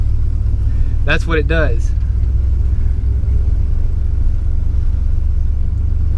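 A budget used police car, dirty and in need of work, pulls away in drive with a steady low engine rumble throughout, while someone speaks briefly near the start.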